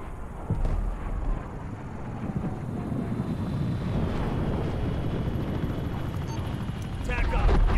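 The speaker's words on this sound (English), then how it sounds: "Hostile attack helicopter inbound." A deep, steady rotor-like roar of a hostile attack helicopter gunship in the game Call of Duty: Cold War, continuous and loud, with broadband rumble and wind-like noise throughout.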